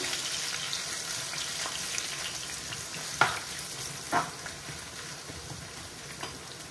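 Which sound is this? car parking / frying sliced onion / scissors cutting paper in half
frying sliced onion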